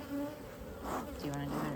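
Honey bees buzzing around an open, smoked hive during a swarm check, a steady insect drone with a few bees passing close by, no talking.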